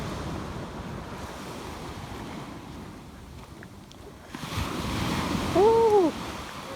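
Surf washing onto a beach at a Jamaican resort in Ocho Rios, a steady rolling wash with wind noise on the microphone, swelling louder over the last couple of seconds as a wave breaks close by.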